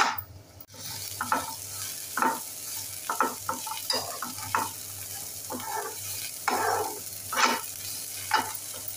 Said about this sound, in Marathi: कांदा एकदम लालसर तांबूस रंगापर्यंत आपल्याला फ्राय करून घ्यायचा आहे।